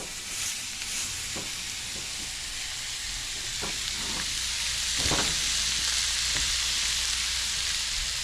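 Venison simmers and sizzles in a hot cast iron skillet, a steady close frying hiss with a few soft clicks and scrapes scattered through it.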